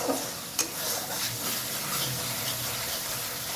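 Poppy seed and mustard masala sautéing in oil in a pan for a prawn curry, with water added: a steady soft sizzle and hiss, a brief clink early on, close and continuous.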